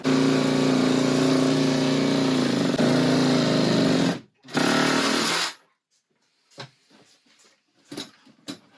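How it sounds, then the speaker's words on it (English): A power tool cuts off an RV toilet flange where it meets the black tank, grinding loudly and steadily for about five seconds before stopping, followed by scattered faint clatter and handling noise. "We cut the toilet flange off from up above."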